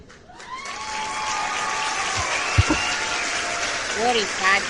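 A small studio audience gives a brief, light ripple of clapping at a weigh-in on a wellness show, with voices carrying over it.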